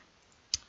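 A single crisp computer mouse click in cabinet design software, sharp and close, standing out briefly against a quiet room background.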